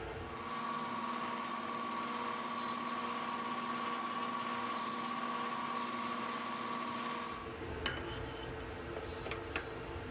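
A 4.99 mm reamer works a hole in a part for a bicycle repair stand, making a steady, droning machine whir with a faint high whine for about seven seconds before it stops. A few light clicks follow.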